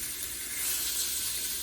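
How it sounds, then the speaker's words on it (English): Tuna searing in a hot pan over medium-high heat gives a steady, even sizzling hiss, close and constant with no talk. "now we will want to cook it on a medium-high heat in a hot pan for 3 minutes on each side"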